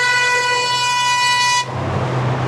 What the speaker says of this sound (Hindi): यहीं से भाई ने हॉर्न मार दिया